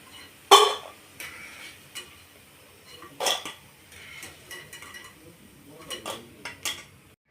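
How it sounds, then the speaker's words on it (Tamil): Fried bondas for orange laddoo are lifted out with a metal utensil and dropped into a bowl, giving sharp clinks and clatters, one loud near knock, then softer scrapes and taps spread through a quiet kitchen. "போண்டா வந்து பவுலில் எடுத்துக்கலாம்."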